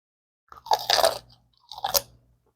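A crunchy deep-fried wonton filled with sweet cream cheese, dipped in plum sauce, is bitten close up: a loud crisp crunch and chewing, then a short pause and a second crunchy burst, with no talking.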